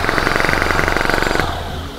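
Dnipro-M jackhammer still running after a 12 m drop, a loud, close, rapid hammering rattle that cuts off abruptly, leaving a lower mechanical hum.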